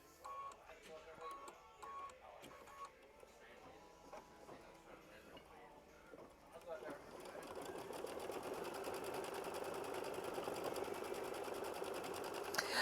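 A sewing machine stitches a quilted flower bouquet block with a steady rapid whir that grows louder and denser in the second half; a voice is faintly present near the start.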